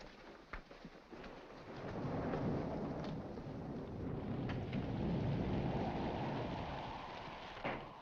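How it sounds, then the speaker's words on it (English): Steady rain pours outside during a thunderstorm, a broad hiss that swells and holds, with a low rumble beneath and a few sharp knocks. "In this rain? Yes, in this rain."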